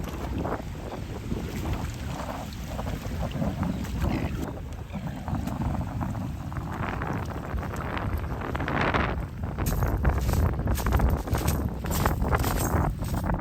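Wind blowing on a remote island off Cape York, a constant loud rumbling buffet against the microphone that grows gustier toward the end, with no speech.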